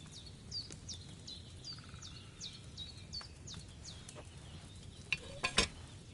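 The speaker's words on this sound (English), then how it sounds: "Hear that bubbling? It's boiling." A cauldron of wine boils over a flame in the video game Kingdom Come: Deliverance 2, giving a soft continuous bubbling and crackle under repeated bird chirps, with a few sharper clicks near the end.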